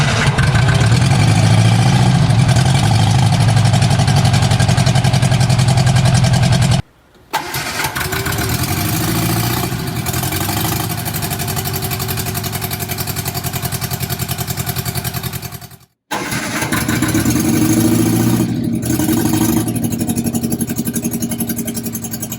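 Barn-find Austin-Healey Sprite engine running rough and loud up close as throttle is blipped, with two sudden brief dropouts where it nearly dies before catching again and carrying on.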